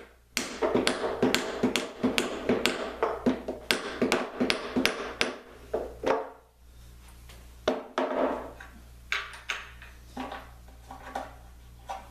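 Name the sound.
hammer tapping a bolt through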